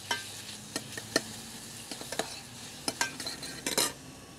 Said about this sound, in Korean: 이제 볶아주세요.